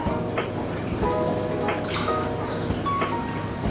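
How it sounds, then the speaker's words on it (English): Liquid dechlorinator, Seachem Prime, poured by the capful into running tap water, with steady splashing from the tap and small drips and trickles layered over it. "I'm just going to pop in 2 capfuls right where the water comes out of the tap"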